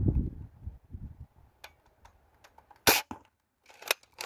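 A Dart Zone Nitroshot Nexus Pro X blaster fires darts at a target: one loud, sharp pop, followed about a second later by a second, lighter snap. Quiet rustling and faint clicks come before the shots.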